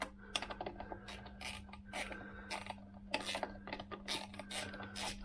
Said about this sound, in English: So I'm going to stick my socket set on there and take off these two bolts that are holding on the gear selector.